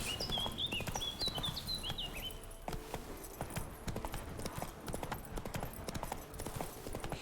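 Hooves of the horse Roach in The Witcher 3, clip-clopping in a quick steady rhythm, close and clear, with a few brief birdlike chirps early on.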